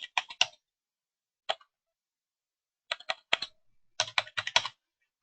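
A password being entered on a computer keyboard: short bursts of crisp key clicks separated by pauses, close and clear in an otherwise quiet room.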